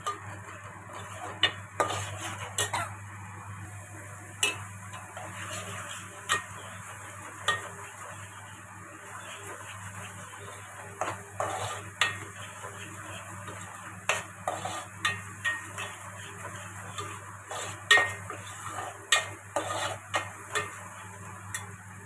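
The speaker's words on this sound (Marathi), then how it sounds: "आता हे सगळं आपण एकत्र चांगलं तेल सुटत तर भाजून घेऊया।" Spice masala for a crab curry roasts in oil with a soft sizzle and irregular stirring clinks and scrapes of a spoon against the pan, fairly quiet and without talk.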